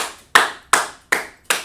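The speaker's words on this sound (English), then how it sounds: "Let's clap it up for that brother." Four sharp, close hand claps ring out at a slow, regular pace, each a crisp slap with a short decay before the next, in praise of a brother at a gathering.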